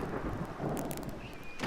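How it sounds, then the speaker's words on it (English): Thunderstorm ambience in the Professor Layton vs. Phoenix Wright video game, with rain hiss and a low thunder rumble, brief and steady throughout. "You're lucky I'm even opening the door in this storm."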